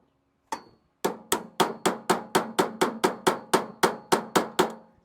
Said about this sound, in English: You want to hammer that in a little bit.